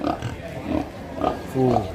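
Pigs brought by arriving family guests to a Toraja funeral reception ceremony in Deri, North Toraja, grunting and squealing close by in several bursts, with people talking in the background.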